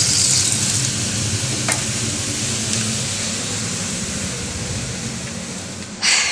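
A pan sizzles loudly and steadily while food is stirred in it, a dense continuous frying hiss with occasional scraping, close and unbroken, then a brief burst near the end.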